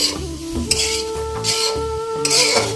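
Bananas frying with sugar in a pan for Magh Bihu pitha, heard as a soft sizzle under scraping and clinking of a spatula against the pan, with several sharp stirring strokes.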